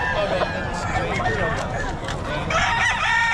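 Gamefowl roosters crowing at a busy market in Bocaue, loud, close crows over a dense crowd murmur, with people talking throughout.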